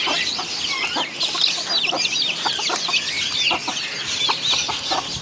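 Chickens and small chicks clucking and cheeping busily from an opened cage, a dense, close chorus of overlapping clucks and high peeps continuing throughout without speech.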